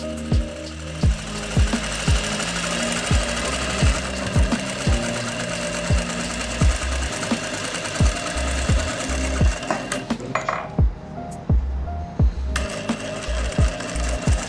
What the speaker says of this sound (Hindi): तो ये हमारी दोनों आसन की सिलाई लग रही हैं